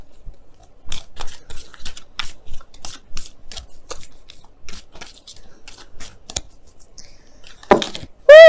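Oracle cards for a tarot reading are shuffled in a run of quick, crisp riffling bursts and soft slides, close and clear, ending in a sudden loud tone.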